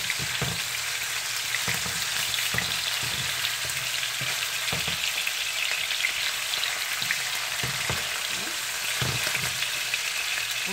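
A salmon fillet frying in a pan, a loud continuous sizzle close up, with occasional soft clicks of a utensil against the pan.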